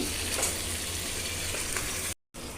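Chicken pieces fry with tomatoes in a pan, making a dense steady sizzle at moderate loudness, cut by a brief silent gap near the end before the sizzle resumes; no talking.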